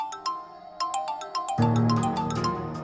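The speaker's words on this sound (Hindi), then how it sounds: "ये तुम्हारा भाई मुझे क्यों कॉल्स कर रहा है? अब मेरा फोन।" A mobile phone rings with an incoming call in a domestic drama scene, starting with a repeating melodic tone pattern and then swelling into a fuller, louder ringtone with added bass, playing alone without talk.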